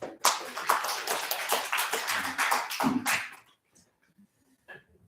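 A church congregation at Sunday service claps together to welcome a first-time worshipper. It is a dense, close burst of applause lasting about three seconds, then stops abruptly, leaving near silence with a few faint knocks.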